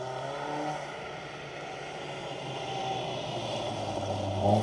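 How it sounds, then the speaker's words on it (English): A BMW 318 Ti Compact rally car drives a forest stage in a steady, droning engine rasp that carries from a distance and slowly grows louder and closer toward the end. "It's a BMW. I can hear the rasp now, that's more like it."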